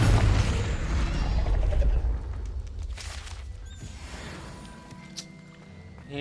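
The Confringo spell in Hogwarts Legacy sets off a deep booming explosion that rumbles loudly at once and then fades over a few seconds into a quieter tail with faint scattered debris sounds.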